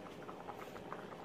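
Rice for chicken pilaf boiling in water on high heat, a soft, quiet bubbling patter with rapid little pops and a constant simmering hiss, close and alone.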